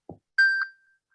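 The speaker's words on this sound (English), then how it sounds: "It's not dinging anymore. It's not a pager. It was my iPhone for some reason." An iPhone notification chimes once, a clear bright ding with a second short tone that rings out and fades, after a brief low thump, with no talking.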